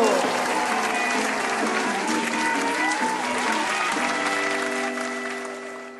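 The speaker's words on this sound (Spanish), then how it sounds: "aplauso!" Audience applause at a live concert fills the space with sustained clapping and crowd noise, tapering off near the end while music tones linger underneath.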